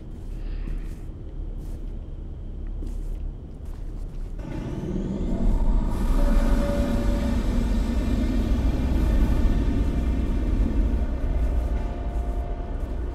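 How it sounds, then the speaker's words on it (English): Subway trains rumbling at a platform in the game Condemned: Criminal Origins, a low drone swelling into a loud, sustained roar with metallic tonal whine after a few seconds, continuing near and heavy to the end. "There's a couple of trains down here."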